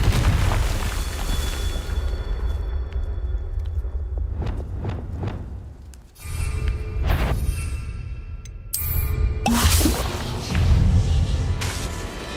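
Bombarda and Confringo spells exploding in Hogwarts Legacy: a few heavy booming blasts ring out over a continuous rumbling background, each burst loud and close, with short gaps between them.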